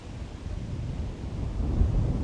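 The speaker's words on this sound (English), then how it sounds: "Beautiful sunny day, just it is kind of windy." Wind gusts buffet the microphone on a sunny day among Somei Yoshino cherry trees in Japan, a low rumbling whoosh that swells louder near the end, with no voices.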